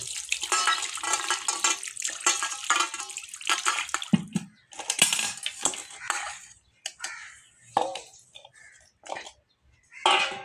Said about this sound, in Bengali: এখন আমি ধুয়ে পরিষ্কার করে নেব